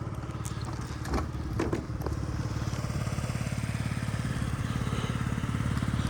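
A Yamaha Jog SA36 fuel-injection scooter imported from Japan runs close by, its small engine holding a steady, continuous buzzing idle throughout.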